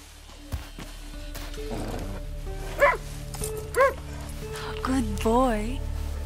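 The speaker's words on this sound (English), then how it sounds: "You are such a good dog." In the Far Cry 6 video game, a companion dog yips and lets out several rising, wavering whimpers while being petted, fairly close and clear over a low steady background.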